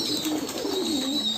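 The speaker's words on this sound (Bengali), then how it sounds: "কবুতরের গোসলগুলো আসলে খুব সুন্দর।" Pigeons on a pigeon farm cooing while bathing, a low, repeated rolling coo close by over a faint steady background hiss.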